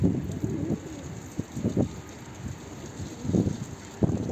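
A pigeon held by the wing tip in someone's hand flaps in short irregular bursts of soft fluttering, close to the microphone, with wind noise between the flurries.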